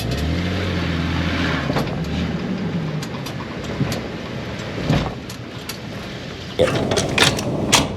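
A 2022 Toyota Tundra pickup on a test drive gives a steady low engine and road hum with light rattles, growing busier near the end.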